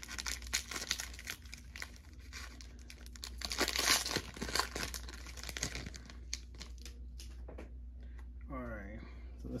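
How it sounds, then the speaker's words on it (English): A Topps 2020-21 Series 1 baseball card booster pack is torn open, making crinkling foil and ripping bursts that peak midway, with brief crumpling and a faint voice-like sound near the end. "So now let's go ahead and open our last booster pack from that box."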